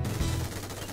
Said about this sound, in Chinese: 再看满配开镜射击，先看 MG3